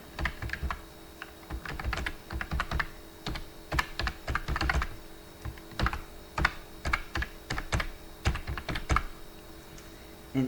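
Fingers tap out a login on a computer keyboard for an online school management system, giving close, crisp, irregular bursts of keystrokes with short pauses between them. No one speaks.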